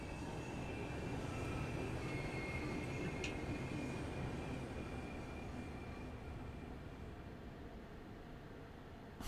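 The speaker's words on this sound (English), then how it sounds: "There's a train." A passing train in the Train Sim World 3 video game on the Southeastern High Speed line: a steady broadband rumble with a constant tonal whine holds through the clip, loud and close throughout and alone, with no talk over it.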